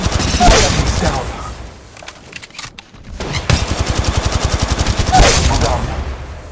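Automatic weapon fire in the Apex Legends Mobile shooter: loud, rapid bursts of shots with a rhythmic rattle, a brief lull in the middle, then more sustained firing, mixed with game effects and a voice speaking.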